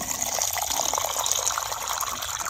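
Water pouring steadily into a container, a continuous gushing fill at close range that holds its level without a break.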